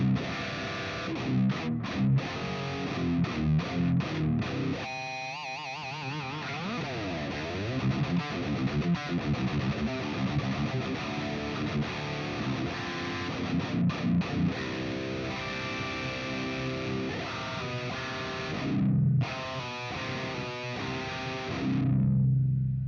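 Heavily distorted electric guitar played through a Quad Cortex capture of a Bogner EL34 amp, miked with a 57 and a 160, chugging and ringing loud and close with a few sharp stops and no talking.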